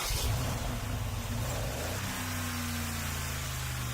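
A 2017 Mercedes-Benz G550 with its 4-liter twin-turbo V8 firing up: a loud burst as it cranks and catches, settling into a steady low idle rumble that carries on to the end.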